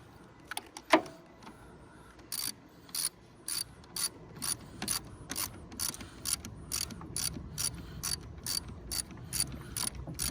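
A ratchet wrench tightening the battery terminal on a Mercedes C300 W204 during a battery installation: a long run of quick, clicking ratchet strokes, evenly paced and close, following a brief metallic clunk at the start.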